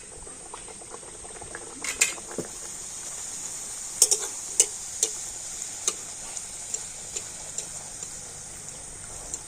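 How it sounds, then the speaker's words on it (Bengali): Luchi frying in hot white oil in a kadai, a steady bubbling sizzle punctuated by a dozen crisp ticking pops and splashes, close and moderately loud with no talking. "এবার আমি লুচিগুলো ভেজে নেবো"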